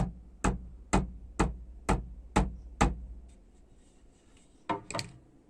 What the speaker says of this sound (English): and this is the Remo head.